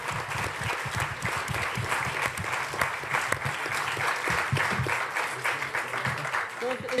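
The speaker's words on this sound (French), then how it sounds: "quelques applaudissements pour les fonctionnaires et les serviteurs de l'État" Sustained applause from a crowd in the French Senate, a dense, steady clatter of clapping hands lasting several seconds.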